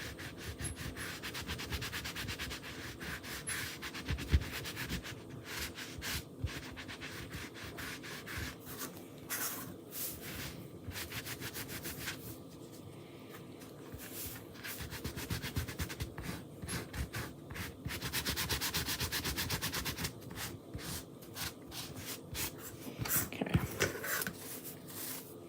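Chalk paste being rubbed through a Chalk Couture stencil onto a wooden board, a steady dry scraping and rubbing that runs continuously with rhythmic strokes, close to the microphone.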